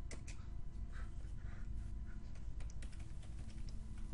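Rapid clicking keystrokes on a computer keyboard, quiet and continuous with irregular rhythm, heard alone against a low background hum.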